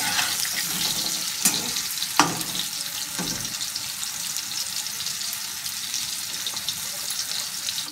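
Bitter gourd (karela) frying in hot oil in a home kitchen, a steady close hiss and sizzle throughout with a few soft clinks and stirring taps.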